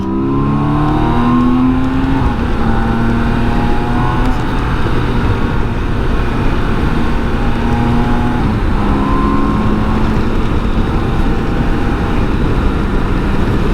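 A BMW K1600 GT motorcycle riding along with a quick shifter: a loud, steady engine drone with rising and falling pitch through the shifts, mixed with heavy wind rush throughout.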